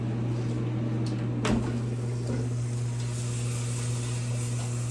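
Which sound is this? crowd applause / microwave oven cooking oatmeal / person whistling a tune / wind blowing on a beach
microwave oven cooking oatmeal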